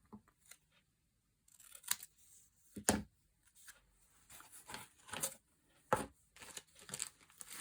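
Scissors cutting paper for a collage, close and quiet, with irregular snips and crinkly rustles in scattered bursts after a brief silence, with no talking.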